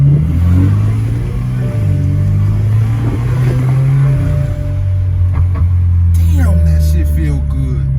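A BMW 4 Series twin turbo drives and accelerates, a steady low engine drone rising and falling in pitch with gear changes, loud and close inside the cabin, with people talking over it.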